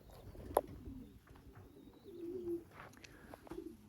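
Pigeons in a loft give soft, low coos close by, with a brief sharp sound early on and faint chirps against a quiet background.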